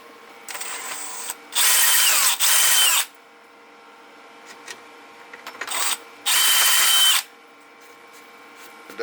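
A power drill chamfering the edge of a part on a 1961 Chevy Apache C10, heard as two pairs of short, loud, high whirring bursts separated by quiet pauses with faint clicks, close by.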